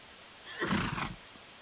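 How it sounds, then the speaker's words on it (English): A horse in the Metal Gear Solid video game lets out a single short whinny, heard from a distance and fairly faint against a quiet background. "would you look at that? It's a horse."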